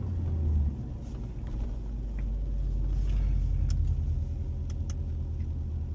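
A Porsche Panamera engine hums low and steady while driving in Sport Plus mode, a continuous deep rumble heard from inside the cabin with faint light clicks above it.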